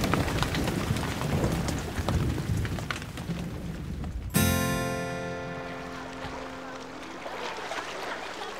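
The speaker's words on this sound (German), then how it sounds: "Und jetzt regnet es auch noch." Heavy rain falls during a thunderstorm as a dense, steady hiss, cut off partway through by a sudden change to tonal music that fades out.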